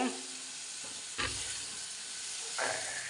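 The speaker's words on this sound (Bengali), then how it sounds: "এখন একটু হালকা ঝোল দিব, এই দিয়া মাছ দিয়া দিব" Fish slipped into a simmering curry with light gravy sets off a steady sizzle and hiss, with two louder bursts of spattering frying partway through; no talking.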